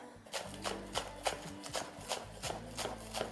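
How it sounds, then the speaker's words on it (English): A knife chops green onions on a board in a quick, regular rhythm of about a dozen crisp, close taps, with a faint steady hum underneath. "now I'm going to chop 5 to 6 green onions"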